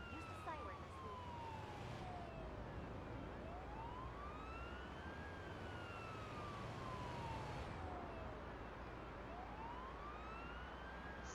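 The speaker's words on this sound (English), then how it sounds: "Use the siren as needed." Wailing ambulance siren from the paramedic driving game Ambulance Life: Paramedic Simulator, its pitch sweeping up and down in long repeated cycles over a steady engine and road rumble, loud and continuous throughout.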